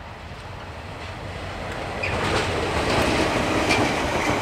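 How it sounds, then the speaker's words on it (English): DFB diesel locomotive hauling empty Te Huia passenger coaches, a steady rumbling roll that grows louder halfway through, with faint clicking and light squeals from the wheels. "we see DFB 7295 returning with her empty Te Huia coaches."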